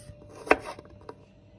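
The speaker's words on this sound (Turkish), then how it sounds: "İki diş sarımsağımızı ince ince doğruyoruz." A knife strikes a cutting board while finely chopping two garlic cloves for a spicy tomato ezme, with one sharp close chop followed by a couple of lighter taps.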